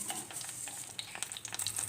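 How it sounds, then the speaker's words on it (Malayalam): Mustard seeds crackle and pop in hot oil in a pan while tempering for sambar, a dense stream of small sharp pops over a steady frying sizzle, close and fairly quiet, with no talking. "കടുക് പൊട്ടുകയാണ്"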